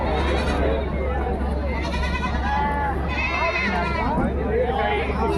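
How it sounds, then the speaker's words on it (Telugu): Goats and billy goats bleat in wavering cries at a weekly livestock market amid the constant murmur of a crowd of people talking close by. "అక్కడ మేక మేకపోతులు ఉన్నాయి"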